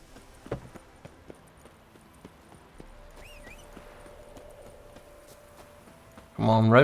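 Hooves clop under Roach, the horse in the game The Witcher 3, as faint, scattered steps over quiet ambience with a few soft tonal sounds. A voice speaks loudly at the very end.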